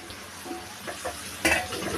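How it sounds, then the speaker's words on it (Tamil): Chopped tomatoes drop into a pan of sautéed ginger-garlic paste for paneer butter masala, bringing a sudden louder sizzle after a few soft stirring scrapes. Steady frying crackle continues underneath, with no talking. "இப்போ தக்காளி போட்டுக்கிறேன்."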